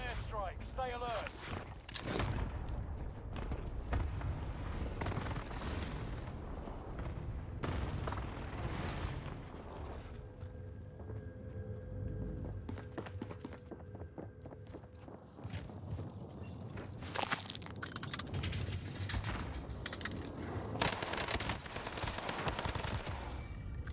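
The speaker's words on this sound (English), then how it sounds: "Enemy precision airstrike." Precision airstrike explosions and gunfire on Rebirth Island in the video game Warzone, dense rattling shots and dull booms going on throughout, with footsteps and people talking over the battle.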